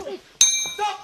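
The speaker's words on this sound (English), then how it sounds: "And there goes the bell." A single sharp ring of the boxing ring bell ends the final round at the IBA World Championships, clear and metallic with a short ringing tail. Crowd murmur and commentary sit around it.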